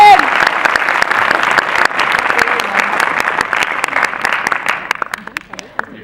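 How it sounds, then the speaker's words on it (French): An audience bursts into applause, dense clapping that stays strong for several seconds, then thins out and fades away. "Il y a comme une compétition d'applaudissements entre lui et elle."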